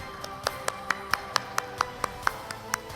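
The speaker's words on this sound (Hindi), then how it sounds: "तालियां बजती रहनी चाहिए।" At a public event in Bhopal, individual hand claps ring out one by one in a loose, uneven rhythm, about a dozen sharp nearby claps over a quiet background rather than a full crowd.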